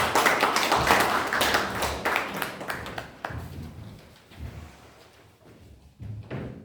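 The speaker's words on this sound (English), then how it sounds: "Can we have a huge round of applause?" Round of applause at a Toastmasters club meeting, loud clapping at first that thins out to a few scattered claps and taps, with quieter moments before a final clap.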